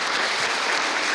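A church congregation applauds together at a Sunday service, a dense, even wash of many hands clapping at once that holds steady and loud for the whole moment, with no voices standing out.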